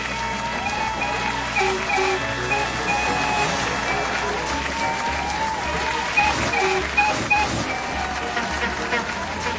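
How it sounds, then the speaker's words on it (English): A crowd cheering with whistles blowing at a railway station as engines are sent off, a broad continuous roar with sharp whistle tones scattered through it. "they held a grand cavalcade with whistles and cheering all round"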